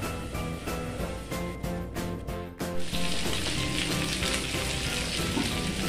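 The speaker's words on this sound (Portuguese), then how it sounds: "ela foi cozinhando e fritando ao mesmo tempo" Steady sizzling of food frying in a pan, a close crackling hiss that continues throughout with a brief clatter midway.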